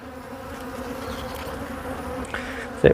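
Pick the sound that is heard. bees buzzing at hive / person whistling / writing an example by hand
bees buzzing at hive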